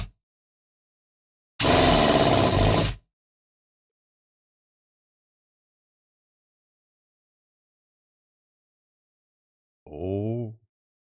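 A small homemade engine being tuned sputters into a brief broadband burst of about a second, then silence, followed by a short tonal rattle near the end.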